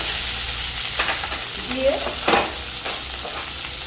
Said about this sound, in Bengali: এই গরম তেলে প্রথমে পেঁয়াজগুলো দিলাম, তারপরে আমি ক্যাপসিকামগুলো দিয়ে দিলাম